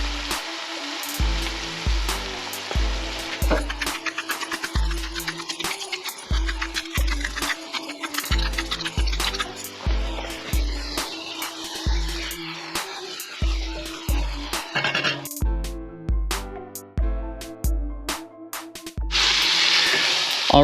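Cabbage fries in a pan with Worcestershire sauce and black pepper as its moisture cooks off. The steady sizzle and hiss is broken by repeated scraping stirs and low knocks at a fairly even rhythm.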